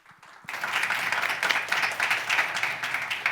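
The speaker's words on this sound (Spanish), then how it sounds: "Un aplauso" Dense audience applause fills a conference hall at a neuromodulation session of a medical innovation forum, starting abruptly after a brief quiet moment and holding steady and loud to the end.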